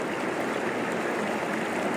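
A river on Dartmoor streams and rushes steadily, a continuous close broadband wash of flowing water with no voices and no breaks.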